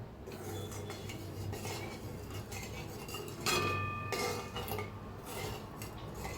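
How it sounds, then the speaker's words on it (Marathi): Asafoetida and chili powder are stirred into cooled oil for mango pickle, a spoon scraping and clinking against a metal pot in soft, close strokes with no talking. "आणि एकदा हलवून घ्यायचं."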